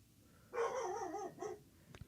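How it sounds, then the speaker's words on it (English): Dogs bark and whine close by in a home, one long, wavering, yelping burst followed by a shorter second one, with no talking. "Can you hear my dogs barking?"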